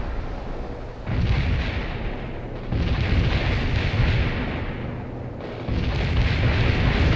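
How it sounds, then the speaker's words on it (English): Mortar fire and explosions from the video game World in Conflict boom heavily in a few deep, rumbling bursts, each lingering with loud battlefield roar and no voices over it. "Contact firing mortars."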